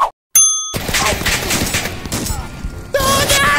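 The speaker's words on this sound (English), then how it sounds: "Flashbang went off in my face!" A flashbang grenade and gunfire in a VR shooter game: a brief blast, then a dense burst of rapid shots and ringing noise lasting a few seconds, loud and close, followed by a second surge of noise.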